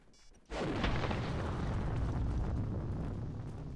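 A bomb exploding in a video game, a sudden heavy boom after a brief quiet start that swells into a long rumbling roar and slowly tails off, loud and full.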